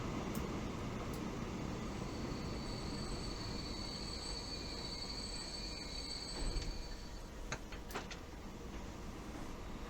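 A freight train pulls in within the Transport Fever 2 game, steady rolling rumble of railcars with thin wheel squeals and a few sharp metallic clicks, quiet and continuous with no talking.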